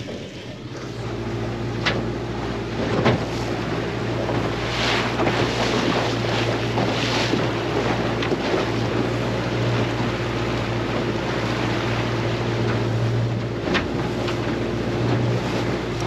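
A trailer boat motors across open water off Dirk Hartog Island, its outboard droning steadily for sixteen seconds under gusty wind buffeting the microphone and the splash of waves against the hull.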